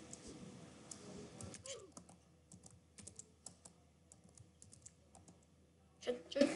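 Rapid clicking keystrokes on a computer keyboard, quick irregular bursts of taps throughout, close and fairly quiet, with faint room sound and a brief voice near the start.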